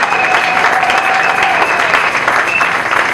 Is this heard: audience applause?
yes